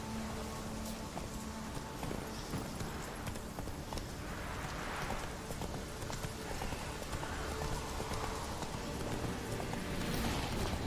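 Hooves of the horse Roach clip-clop steadily in The Witcher 3, a fairly faint, continuous galloping rhythm over a constant game background, with no talking.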